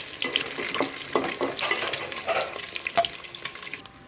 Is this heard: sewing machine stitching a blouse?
no